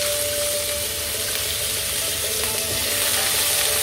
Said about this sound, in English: Just stir fry them.